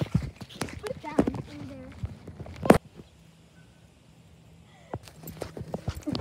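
Horses' hooves clip-clop and shuffle nearby as riders go to fetch the horses, irregular knocks and thuds that stop for a couple of seconds before resuming, with voices talking faintly over them.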